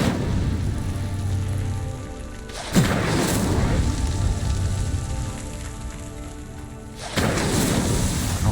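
Incendio fire spell cast in Hogwarts Legacy, a dense roaring whoosh of flames with two sharp bursts that renew the rushing crackle, loud and continuous with no talk.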